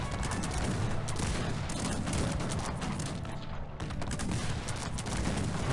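Dense, constant battle noise in Cossacks 3 with rapid overlapping booms and gunfire, loud and unbroken, suggesting volleys of cannon fire amid a chaotic fight.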